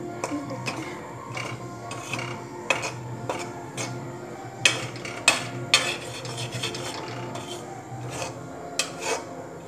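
Grated coconut and chironji being dry-roasted in a pan, with a spatula scraping and tapping repeatedly in an uneven rhythm over a soft background hiss, close and fairly quiet.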